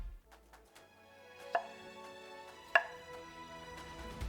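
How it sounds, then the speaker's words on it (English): A knife slicing stacked potato pieces on a cutting board, a few sharp, close wooden knocks with ringing resonance and quieter taps in between, no speech. "we'll just stack them up and just cut them across like so"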